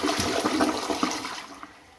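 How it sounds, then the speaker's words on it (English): A WaterRidge one-piece toilet doing a full flush: a close, loud rush of water with gurgling bursts that swirls down and tapers off toward the end, with no talking. "So just to show you the flush, here's a full flush."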